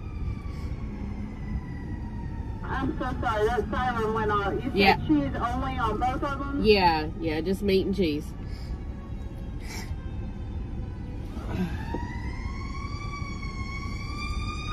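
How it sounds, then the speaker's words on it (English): An emergency siren wails outside a Krystal fast-food drive-through, its rising and falling tone sweeping for several seconds under ordering talk, then a second rising whoop near the end. "sorry, that siren went off"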